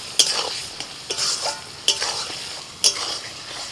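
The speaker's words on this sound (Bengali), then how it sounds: "এবার দিয়ে দিচ্ছি ভাজা সয়াবিন।" Fried soybean chunks stirred into a spice masala in a pan, with sharp spoon scrapes and clanks every second or so over a continuous close sizzle.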